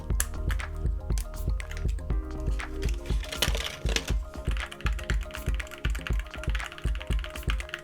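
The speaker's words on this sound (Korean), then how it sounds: "포인트 키캡은 보인 김에 한번 바꿔볼게요" Plastic keycaps clicking and clacking in quick, irregular bursts, with small snaps and rattles as accent keycaps are swapped with a keycap puller on an RGB macro keyboard, up close.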